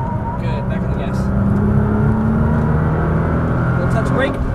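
A Nissan GT-R accelerates on a race track, its engine a steady, loud roar building under an instructor's voice from inside the car.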